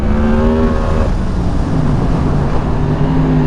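A 2023 Yamaha MT-10 SP motorcycle accelerating hard, its engine loud and close with a rising roar that shifts pitch partway through, then climbs again.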